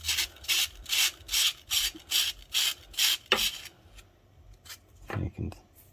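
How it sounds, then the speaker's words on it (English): Rhythmic back-and-forth rasping of 60 grit sandpaper roughing up the tip of a golf wedge shaft, about nine even strokes close up, then a pause with a few lighter scrapes and small knocks. "I believe this is 60 grit sandpaper, and rough up"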